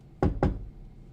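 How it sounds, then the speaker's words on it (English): Two quick, solid knocks on a door in the video game Danganronpa Lapse, close and fairly loud, followed by a brief quiet tail. "I opened my eyes at the sound of knocking."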